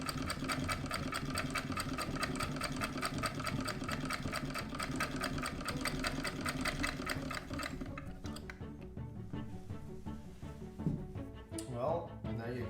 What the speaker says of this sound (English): That sews very nicely.